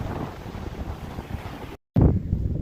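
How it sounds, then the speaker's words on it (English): Strong wind on a beach at Assateague Island buffets the microphone with a steady roaring rush, broken by a brief dropout before the gusty noise returns louder. "Very, very windy, so check this out."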